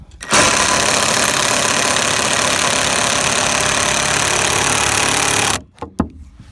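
A Mastercraft 20-volt cordless drill straining as it drives a screw, a loud continuous motor whine held for about five seconds before stopping sharply, followed by a couple of brief clicks.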